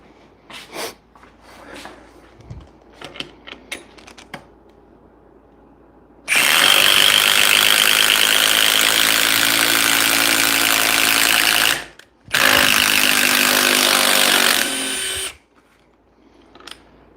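A cordless power tool drives in large screw mode, its loud, harsh whine running for about six seconds, cutting out briefly, then resuming for three more seconds before stopping, with lighter handling clicks beforehand.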